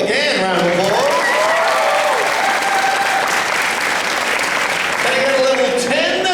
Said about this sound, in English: Can I get a level 8 Paul McGann round of applause?